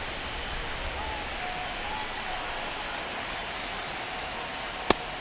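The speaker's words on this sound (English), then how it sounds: "This rain is not letting up." Heavy rain pours steadily onto a baseball stadium during a World Series game between the Toronto Blue Jays and Los Angeles Dodgers, a dense, even hiss with one sharp knock near the end.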